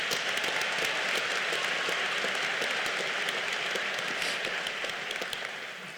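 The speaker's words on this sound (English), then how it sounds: "Please join me in a round of applause once again for our SBA and Class of 2019 officers." Applause from the audience at a 2019 Colorado Law commencement ceremony, a sustained, even wash of clapping from a large crowd that slowly fades toward the end.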